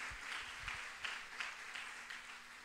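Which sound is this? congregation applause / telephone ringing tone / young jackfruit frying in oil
congregation applause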